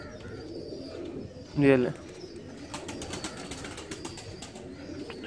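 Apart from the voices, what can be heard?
pair of Chinese Qasori pigeons cooing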